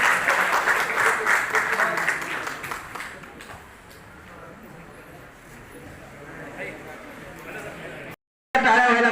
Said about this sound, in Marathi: एकदा यांच्यासाठी प्रचंड टाळ्या वाजवून साहेबांचं स्वागत करावं।